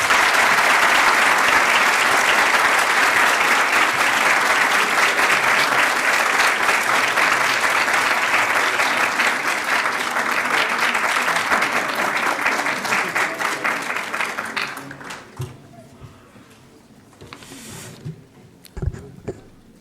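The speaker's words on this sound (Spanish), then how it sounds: "Démosle un enorme aplauso al doctor Lascano." An audience at a medical lecture applauds a speaker with sustained, dense clapping that gradually thins and fades out, followed by a few scattered sounds.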